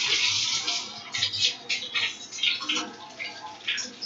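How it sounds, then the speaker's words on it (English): Tap water runs while hands are washed, a close, hissing splash that breaks into uneven bursts as the hands move through the stream. "I'm gonna wash my hands."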